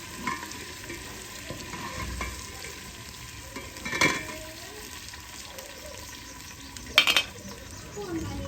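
Spices and ginger-garlic fry in very hot ghee with a soft, steady sizzle close by, broken by a few sharp clinks of a utensil against the pot.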